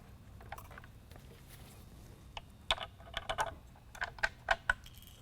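Small, sharp clicks and ticks come in quick irregular bursts as two Phillips head screws are unscrewed from a Code 3 Micro Reflex Mini lightbar module, quiet and close with no talking.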